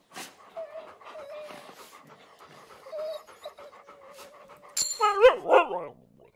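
Dogs panting in the polar survival game The Pale Beyond, rapid rhythmic breaths close by, followed near the end by a few sharp, loud barks and yips.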